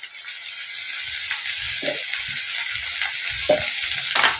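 Ingredients for Kumbakonam kadappa sauté in a pan with a loud, steady frying hiss, broken by a few clattering stirs and scrapes, close up and with no voices.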